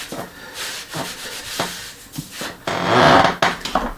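A cloth rubs along a wooden walnut mahl stick in a workshop, giving short scuffing strokes followed by a longer, louder wipe, close up and alone.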